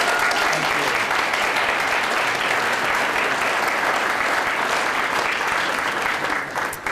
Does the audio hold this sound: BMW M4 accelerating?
no